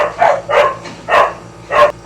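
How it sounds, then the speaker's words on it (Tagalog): Several dogs bark nearby in a loud, steady series of four sharp woofs spaced about half a second apart, with no talk. "Sorry, ang ingay ng mga aso ko."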